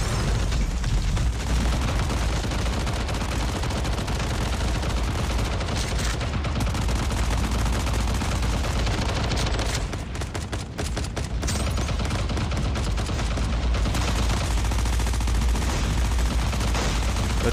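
A turret in Call of Duty: Mobile zombie mode fires sustained, dense rapid gunfire with booming impacts. The din stays loud and continuous, thinning briefly midway before resuming at full intensity.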